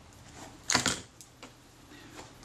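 Small screws with washers tipped out of a Xenon 50mm f/1.9 lens from a Kodak Retina Reflex IV, giving a short bright metallic rattle and clatter near the start, followed by a few faint ticks in a quiet room.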